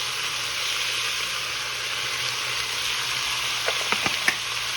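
Beef searing in a hot pot, a steady bright sizzle running throughout, with a few small pops and taps near the end.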